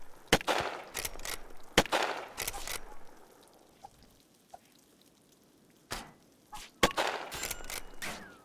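Gunshots ring out in a video game as sharp, isolated cracks and short clusters, separated by quiet gaps, fairly close and loud against a faint background.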